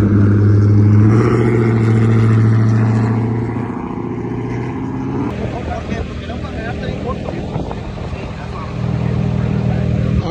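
A Viper truck built NASCAR-style at a street race event, its engine droning loud and close, easing off midway and swelling again near the end, with voices talking over it.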